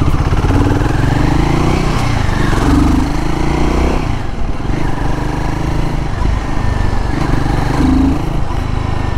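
A Royal Enfield Guerrilla 450 motorcycle under way, its engine droning loudly and rising in pitch, with dips as gears are shifted, close and continuous throughout.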